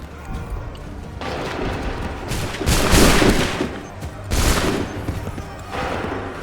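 Musket volleys crack out in the Assassin's Creed 3 Remastered video game: loud, rolling bursts of massed gunfire come in several waves, the strongest in the middle, with faint voices underneath.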